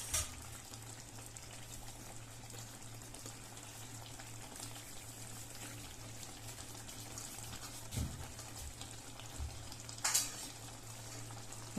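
Corn and capsicum curry simmers in oil in a pan as kasuri methi is stirred in, a faint, steady sizzle with a few soft clinks of the spoon.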